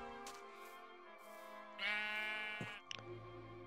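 Sheep bleat in a video game, several drawn-out calls in a row, one louder and longer near the middle followed by a short clatter, with no talk over them.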